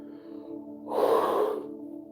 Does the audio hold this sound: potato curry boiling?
no